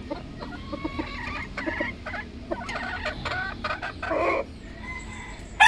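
Broody hen clucking nearby, a series of short irregular clucks and murmurs over faint background ambience, ending in a sudden louder burst.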